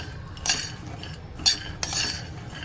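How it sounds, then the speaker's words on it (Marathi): Peanuts dry-roasting in a wok over a low gas flame for ladoos, heard as a soft, dry rustle under metallic scrapes and clinks of a spoon stirring against the pan, three distinct strokes, no voices. "कढई ठेवली आणि चांगले मी भाजून घेणार आहे मस्त बारीक गॅसवर एकदम खरपूस भाजायचे"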